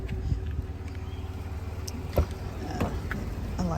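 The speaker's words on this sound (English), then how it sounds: "I haven't even turned the car off yet." A parked minivan's engine idles in a low, steady rumble, close and continuous, with a few light clicks and knocks over it.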